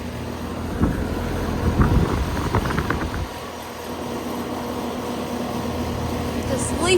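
A running Carrier Comfort outdoor air conditioner unit, a steady near fan whir with a slight rattle, while a person talks over the first few seconds before the hum continues alone.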